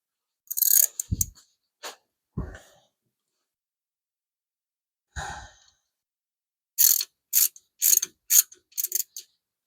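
A ratchet wrench clicks in short bursts while tightening a bolt on a 5.7 Hemi engine during lifter removal, close and crisp, separated by long pauses and a few soft breaths.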